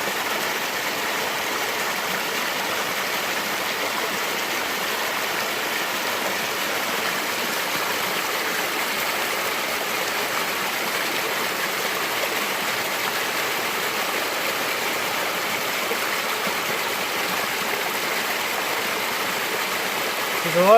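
A creek flows with a steady, even hiss and rush of water, close and continuous throughout with no pauses.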